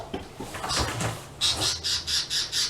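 A pet bird squawks indoors: a few harsh, scratchy cries at first, then a quick run of five or six sharp, evenly spaced squawks, close and moderately loud with no talking.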